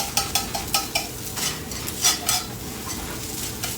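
Flour frying in a pan for red-eye gravy, with a utensil scraping and stirring in short close strokes over a steady hissing sizzle, the strokes slowing toward the end.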